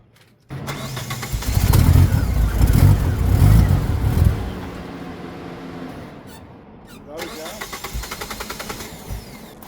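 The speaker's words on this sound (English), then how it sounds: "Put the other ECU in and it fired right up." A DSM car's engine catches and runs loud and rough for about four seconds, then settles into a quieter, uneven idle with faint squeaks close by.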